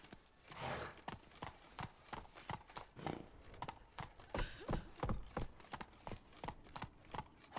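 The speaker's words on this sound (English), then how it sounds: "Not so fast, Roach. That's it, Roach." Hooves of a horse trotting in The Witcher 3, a steady run of clip-clop beats, close and distinct, carrying on throughout without talk.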